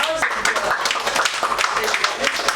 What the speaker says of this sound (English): a round of applause for all the stars of